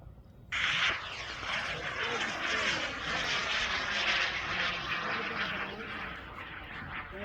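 Hobby rocket motor igniting at launch under a clear sky: a sudden loud, rushing roar that bursts in after a quiet moment and holds steady and forceful throughout, with faint crowd sounds underneath.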